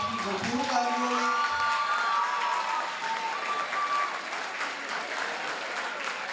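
Audience applause at a formal ceremony, a burst of clapping with some cheers and whoops that holds steady throughout, while a voice speaks over the start.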